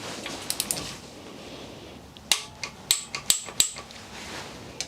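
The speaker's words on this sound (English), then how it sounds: "we'll also get the main timing chain guide bolts torqued down as well, all to 25 Newton meters" Mechanism clicks from a torque wrench tightening the timing chain guide bolts on a Mini Cooper N14/N18 engine under rebuild, about five to six sharp close clicks in an irregular run after a quiet start.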